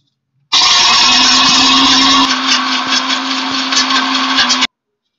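An electric mixer-grinder whirs loudly and steadily, pulverising ghee-roasted spices into a fine powder for a digestive churan, running about four seconds before cutting off abruptly, with a sustained motor hum.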